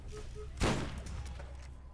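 A single loud gunshot from Borderlands, in the Secret Armory of General Knoxx add-on during co-op play, bursts sharply and then fades over a steady low background hum.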